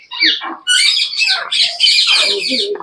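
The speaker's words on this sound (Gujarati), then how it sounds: "હા અહીંયા આપડા દેશી પોપટ આવી ગયા" Native Indian parrots at a zoo in Pradhyuman Park, Rajkot, give loud harsh squawks and chirps in quick overlapping bursts, close by and filling the whole moment with no talking.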